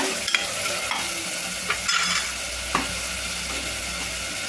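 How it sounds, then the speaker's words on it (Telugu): Sliced onions frying in oil in a pan with steady broadband sizzle, interrupted by a few scraping stirs of a spoon against the pan. "మంచిగా గోల్డెన్ బ్రౌన్ కలర్ వచ్చేటట్టు అయితే వేసుకోవాలండి. మంచిగా వేగాలి ఉల్లిపాయ."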